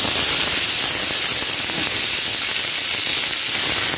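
Ginger frying in a hot wok while cooking Taiwanese kuo cai sin, a loud, constant sizzling hiss with scattered crackles and no talk.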